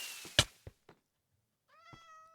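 A person imitates a cat with several short, separate meows near the mic, then a longer drawn-out meow with clear harmonic tones after a pause, mostly alone with no other talk.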